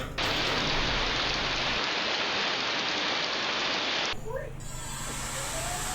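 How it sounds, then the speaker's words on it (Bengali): Heavy rain pours down in a steady, dense hiss, loud and close, then the roar drops off abruptly near the end. "বৃষ্টির শব্দটা যে কী ভালো লাগে তোমাদেরকে একটু শোনাই"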